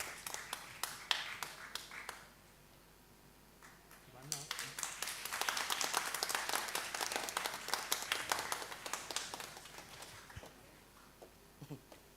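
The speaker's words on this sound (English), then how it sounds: "Please give a big applause to welcome" Applause at a 2023 annual general meeting: a crowd claps, starting sparse, then swelling into dense clapping before thinning out near the end, with faint voices mixed in.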